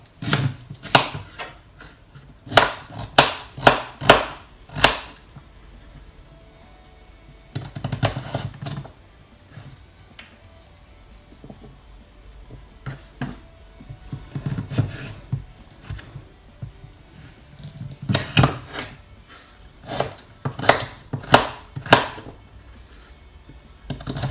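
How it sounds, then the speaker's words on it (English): A kitchen knife chops swede into small cubes on a board for Cornish pasties, with quick close clusters of sharp taps separated by short pauses, repeated many times over. "you're going to strip your swede into thin like lines, and then you're just going to cross and cube it"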